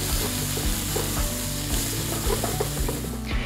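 Mushrooms and onions saute over medium heat in a pan, giving a dense, continuous sizzle with regular scraping and stirring knocks, close up and with no talking.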